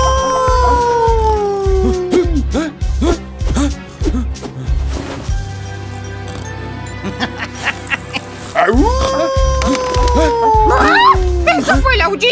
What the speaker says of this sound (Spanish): ¿Eso fue el aullido de un lobo?